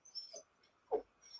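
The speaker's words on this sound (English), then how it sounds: "sorry, that's my dog." A dog gives two brief, faint whimpers, soft high whines about half a second apart, set in a quiet room.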